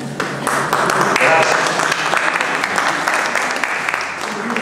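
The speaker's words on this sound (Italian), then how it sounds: "Grazie anche degli applausi amicali." Audience applause at a book presentation in San Severino Marche: steady, dense clapping from a roomful of people, sustained for several seconds at fairly close range.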